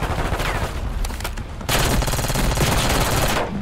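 Rapid automatic gunfire in the Black Ops 6 shooter game, a dense sustained burst of shots that grows louder and more intense partway through, with no talking.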